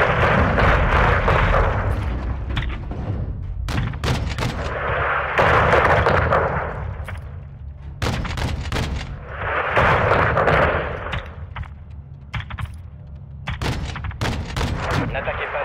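Heavy 40 mm cannon blasts and gunfire from Call of Duty Modern Warfare 2 boom in repeated rumbling bursts, each a few seconds long, separated by sharper cracks and short radio-style voices.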